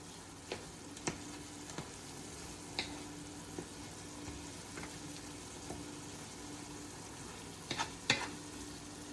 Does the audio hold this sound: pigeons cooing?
no